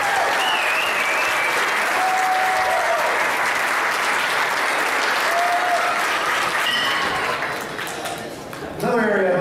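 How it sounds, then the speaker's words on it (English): Staff at the GiftCards.com 2012 holiday party give a loud, sustained round of applause that fills the room, with a few scattered cheers. The clapping thins out toward the end as a voice starts speaking. "I'd like to give everybody in the fulfillment center a round of applause"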